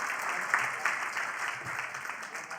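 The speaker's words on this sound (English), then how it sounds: "Give this gentleman a round of applause." An audience at a live question-and-answer session applauds with a dense, steady patter of hand claps and a few louder bursts, moderately distant.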